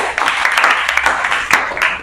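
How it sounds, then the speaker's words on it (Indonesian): Classmates applaud in a school classroom, a short burst of fairly loud, dense hand clapping with a few sharper claps standing out near the end. "Tepuk tangan untuk Melani"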